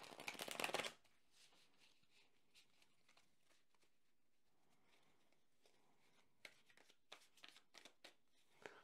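A brisk burst of tarot cards being shuffled opens, followed by softer scattered card taps and riffles, close and quiet.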